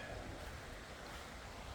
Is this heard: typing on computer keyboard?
no